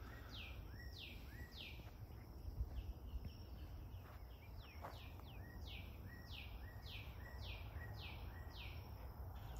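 Birds sing near large trees, including an elephant ear tree, with a repeated series of descending chirps and other calls at moderate distance over a steady hum of insects outdoors.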